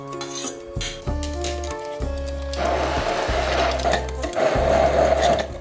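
Some kitchen clatter gives way to a blender whirring briefly as it mixes vegetables and milk-soaked breadcrumbs for pljeskavica, a loud, steady close whir with slight pulsing that fills the rest of the moment.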